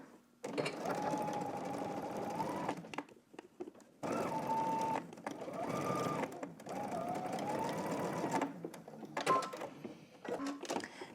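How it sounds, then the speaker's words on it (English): A sewing machine understitches a garment facing seam in three long, steady bursts of rapid mechanical whirring, separated by short pauses, with a couple of brief starts near the end. "we're gonna understitch"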